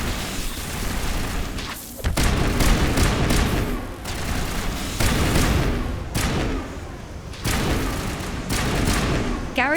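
Dense, loud gunfire from the Mass Effect Legendary Edition sci-fi shooter, with bursts of rapid shots and heavy impacts in several waves across the span, no talking.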